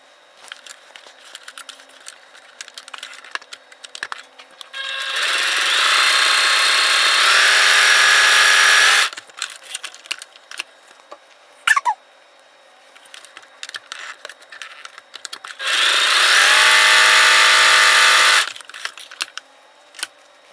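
A sewing machine stitching fabric dart samples, with two sustained runs of steady mechanical whirring a few seconds long, separated by quieter handling and clicking.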